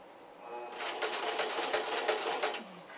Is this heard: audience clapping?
no